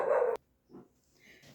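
Dogs on a farm barking at people on the neighbouring property: one loud close bark burst at the start, then a few fainter, softer yips and whines further off.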